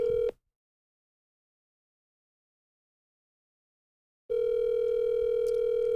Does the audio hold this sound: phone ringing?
yes